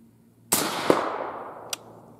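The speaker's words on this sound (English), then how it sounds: "Two shots." Two gunshots at a shooting range. A sharp report rings out and decays over about a second, then a second, fainter crack follows, both with nearby room echo.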